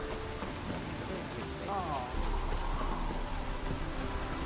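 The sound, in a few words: rain in a video game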